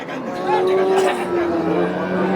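A dairy cow at a cattle market lows in one long, loud, close moo that holds steady, with faint market bustle behind it.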